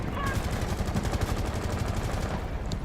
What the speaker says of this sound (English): A lot of gunfire going out on windows.